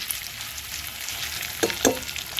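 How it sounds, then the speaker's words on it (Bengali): Spice paste with turmeric sizzles steadily in hot oil for Bengali shukto, a close, continuous crackle with a couple of brief louder spatters, no talking. "মশলাটা খুব ভালো করে দেখো কষানো হয়ে গেছে দেখো তেল ছেড়ে দিয়েছে"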